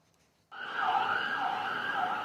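Air raid siren in Tel Aviv during a night of Iranian drone and missile attacks, starting abruptly after a short silence and wailing in slow rising and falling sweeps, faint and distant.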